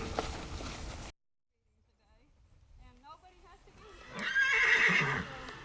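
Horses on a farm in Gilmer, Texas, whinny and snort in the open near a feeder, with a loud burst at the start, a quiet gap, then rising neighs and shuffling nearby.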